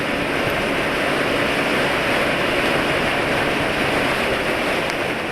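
Strong wind rushing over a microphone while riding a motorcycle, a loud, steady broadband roar that fills the whole stretch with no talk.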